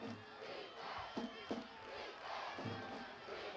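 Football crowd at a CIF-SS second-round high school playoff game, Hawthorne vs Ayala, chanting for defense, a rhythmic roar of many voices with a few sharp shouted accents, sustained and moderately distant.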